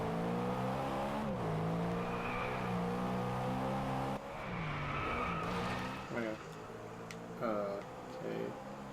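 Race car driving and drifting in the video game Driveclub: a steady, loud engine drone with shifting pitch, gear changes and tire squeals as the car slides through corners, with a voice talking over it.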